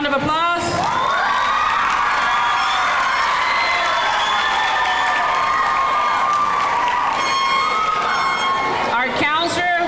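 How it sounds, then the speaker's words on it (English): A crowd of families and students at a sixth-grade graduation claps and cheers loudly and steadily, with whoops and children's shouts mixed into the dense, continuous applause. "Please give him a round of applause."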